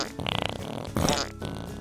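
A comic fart sound effect for a cartoon unicorn: a buzzy, sputtering blast lasting almost two seconds with a rising squeal partway through.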